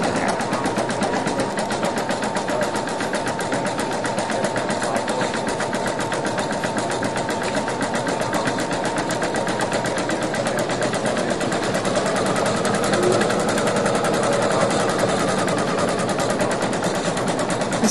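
A sewing machine runs at high speed stitching digital lettering and monograms with Kreinik metallic thread, giving a steady, continuous mechanical whir that holds unbroken and close for the whole stretch, with no talking.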